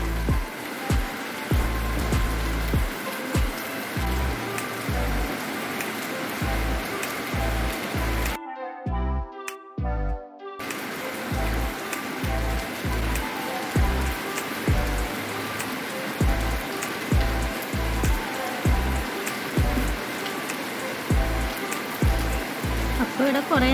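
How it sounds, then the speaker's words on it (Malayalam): Heavy rain pours steadily on a surface in an indoor drawing setting, a dense constant hiss with regular low thumps of drops, briefly cut out for a couple of seconds midway. "സംസാരിക്കുന്ന കേൾക്കുന്നുണ്ടോയെന്ന് അറിയില്ല, കാരണം ഇവിടെ നല്ല മഴയുണ്ട്."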